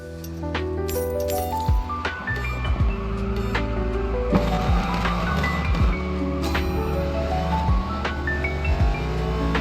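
A Mercedes SL63 in the racing game Racing Master launches hard from a start. The loud, continuous engine note climbs steeply in pitch again and again as it shifts up through the gears.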